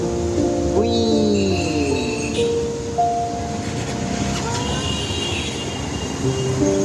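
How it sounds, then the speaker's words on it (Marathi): A train pulls in with a continuous heavy rumble, high metallic wheel squeals and tonal whines drifting over it, loud and close, with faint voices in the background. "ट्रेन आली ट्रेन"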